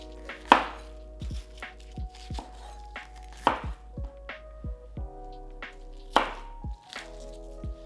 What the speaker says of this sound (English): Slice bok choy into smaller pieces.